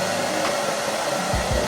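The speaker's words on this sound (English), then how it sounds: "I'm gonna go in with my blow dryer to dry the glue just a little bit before I tack it down" A blow dryer runs steadily at close range, drying lace wig glue during a wig install, giving a continuous even whoosh with a slight thump near the end.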